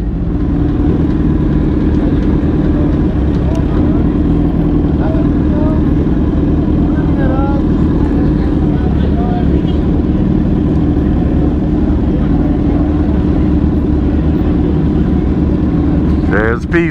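A motorcycle on a Wednesday night group ride gives a continuous loud engine drone mixed with heavy wind roar, close to the rider, with a voice speaking over it.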